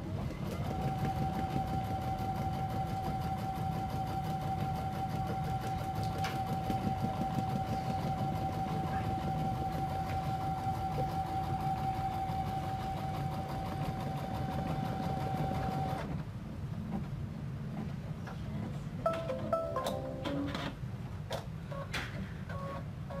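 An embroidery machine stitches down a fabric bunny's ears, a steady rapid mechanical whirring and ticking with a constant hum that runs for about sixteen seconds, then stops, leaving a few quieter clicks and handling noises.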